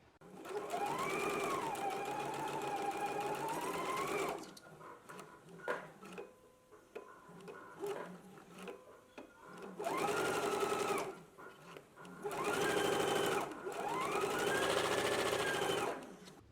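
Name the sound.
sewing machine stitching a dress sleeve seam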